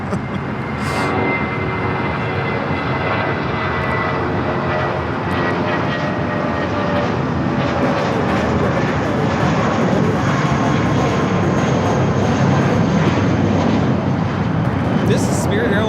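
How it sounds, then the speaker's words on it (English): Spirit Airlines Airbus A320 departing LAX for Indianapolis, its jet engines roaring loud and continuous throughout, building slightly toward the end, with some faint chatter mixed in. "This is Spirit Airlines 416 taking off to Indianapolis on the A320."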